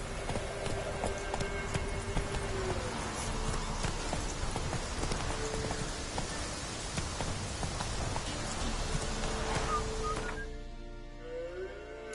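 In The Witcher 3, horse hooves gallop in a steady, rapid clip-clop rhythm that runs throughout at moderate level, then stops near the end.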